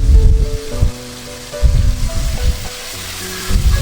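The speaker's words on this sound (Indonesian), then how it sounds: "panaskan minyak secukupnya lalu goreng bumbu yang sudah dihaluskan tadi" Spice paste sizzles and crackles in hot oil, a loud, busy frying hiss that swells as it is stirred.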